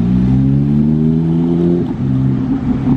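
A green Porsche 911 GT3 RS drives past on a Monaco street, its engine note holding steady and then dropping in pitch as it moves by, loud and close.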